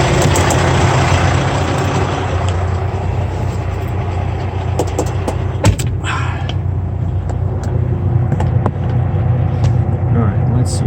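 A car is driven into a parking spot with a loud, close, steady engine rumble throughout, and voices are heard over it.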